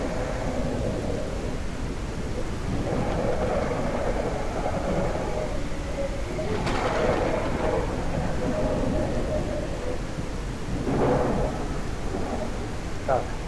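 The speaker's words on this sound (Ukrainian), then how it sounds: "Ну, давайте давайте включимо зливу. О, почалося. Звук відповідний також." Heavy downpour switched on in a video game set at Skalat Castle, a dense, roaring wash of rain with low rumbling like thunder, loud and continuous throughout.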